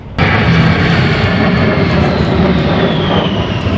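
A-10 Thunderbolt II jet making a pass along the show line at the Canadian International Air Show, a loud, sustained engine roar that starts abruptly and holds steady with a faint descending whine.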